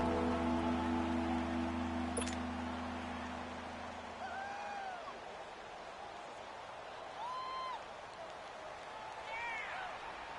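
Stadium crowd roar in a football video game, Cardinals versus Bengals, a loud steady wash of cheering that swells and holds throughout, with a low droning tone early and brief whistling calls over the top.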